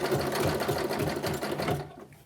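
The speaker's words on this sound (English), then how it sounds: "as you pull it through the sewing machine" A sewing machine stitches steadily through a quilt block fed by the feed dogs, a continuous fast mechanical whir with rhythmic pulsing that cuts off near the end, loud and close.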